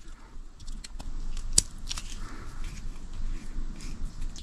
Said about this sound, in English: So I might trim away some of this plastic just to make that easier.